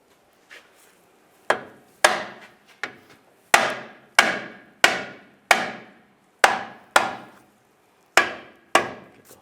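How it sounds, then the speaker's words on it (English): A rubber mallet tapping a cross member into place on a 2007-2013 Chevy Silverado during a timing chain job, with about a dozen loud, close, evenly spaced blows, each ringing briefly before fading. "You can take a rubber mallet,"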